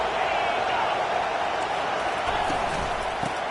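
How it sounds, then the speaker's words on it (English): A dense, sustained roar from a packed football stadium crowd at an OSU game, loud and constant with a broad wash of voices. "Listen to this crowd just shaking the girders of this place"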